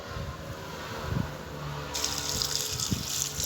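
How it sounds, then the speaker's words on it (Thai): Clear limewater pouring over shredded raw green mango in a bowl, a steady close gushing splash running the whole time, getting brighter partway through as the flow increases. "เทน้ำปูนใสให้ถ่วมเนื้อบักม่วงเลยจ้ะ"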